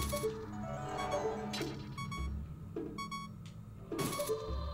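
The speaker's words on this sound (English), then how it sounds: "Oh, great, and now we're beeping." Electronic beeping alert from the video game Zelda: Ocarina of Time, sounding as repeated short tones over game music and effects.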